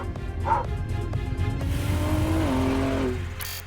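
A Ford sports car engine revs hard and climbs through the gears at full throttle on a race track, loud and close, with a brief tire squeal.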